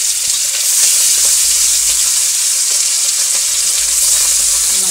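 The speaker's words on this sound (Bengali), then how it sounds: "মাছটা এখন ভাজা হবে।" Pabda fish fry in hot oil in a village kitchen with a loud, dense, continuous sizzle and crackle that stays steady and close throughout, with no talking.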